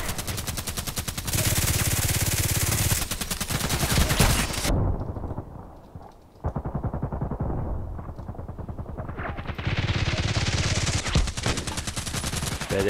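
Rapid, loud gunfire from a video game shooter, a dense stream of shots in long sustained bursts with a brief quieter gap in the middle, no talking.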